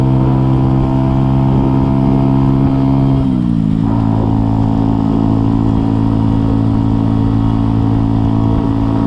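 A loud, steady Mutt Fat Sabbath motorcycle exhaust rumbles close by while riding, its deep throb dipping briefly in pitch before settling back to an even drone.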